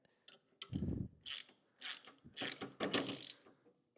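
A ratchet tightens the axle nut on an e-bike wheel in several quick bursts of clicking pawl sounds, close and fairly loud, with short pauses between strokes and no talking.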